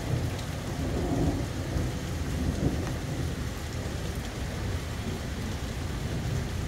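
Heavy rain pours steadily during a thunderstorm, a dense, loud hiss of drops on surfaces with low rumbling beneath, continuous and without speech.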